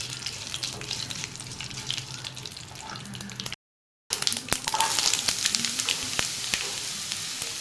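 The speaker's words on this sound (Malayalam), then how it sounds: "കടുക് നന്നായിട്ട് പൊട്ടിയിട്ടുണ്ട്." Mustard seeds crackle and pop in hot oil for a snake gourd thoran, a dense, close, steady sizzle with sharp pops throughout, cut by a brief silent gap midway.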